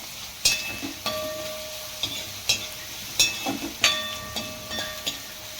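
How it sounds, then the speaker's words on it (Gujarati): Chopped onions sauté in a pan for masala dosa filling, with a steady soft sizzle broken by sharp scraping clinks of a spoon stirring against the pan at irregular intervals. "અને કાંદાને આપણે સતોળી નાખવાના છે"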